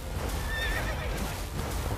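A horse in The Witcher 3 video game gives a loud whinny over a dense bed of game ambience and hoof clatter, the neigh rising and wavering briefly in the middle.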